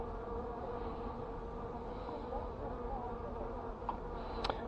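Hornets and honeybees buzz around an anti-hornet tent, a steady low droning hum close by that continues throughout, with a couple of brief sharp clicks near the end.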